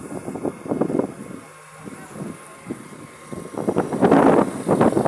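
Strong gusty wind buffets the microphone outdoors at a fire at Aklan Polytechnic College in New Washington, Aklan, rumbling in uneven bursts that swell loudest toward the end, with no talk.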